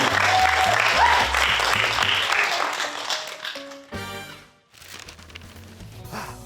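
An audience applauds and cheers loudly at a comedy show after a routine, the clapping fading briefly before a second, quieter burst follows.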